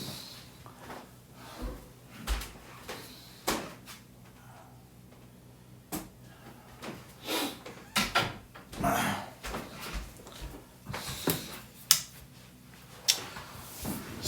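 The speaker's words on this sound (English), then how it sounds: "Let me close the door here." A door is pushed shut in a quiet room, heard as scattered knocks and clunks of handling and latching spread across the stretch, fairly close, with no talking over them.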